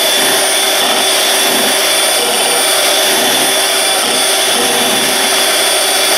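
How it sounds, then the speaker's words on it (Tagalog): An electric mixer runs on high speed, beating cream toward soft peaks in a loud, steady, unbroken whine that lasts several seconds with no voices. "ibibit natin to on high speed hanggang maging soft peak"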